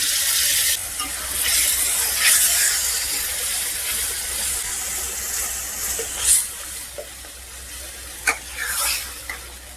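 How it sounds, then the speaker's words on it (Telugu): Ground masala paste fries with ginger garlic paste in a pan for a smoky chicken gravy, giving a continuous hissing sizzle that starts loud and settles lower, with a few sharp stirring scrapes toward the end, up close and without speech. "ఈ మసాలాను కూడా బాగా వేపేసుకోవాలండి దీంట్లో కూడా పచ్చివాసన పోయేంతలా వేపేసుకోవాలి"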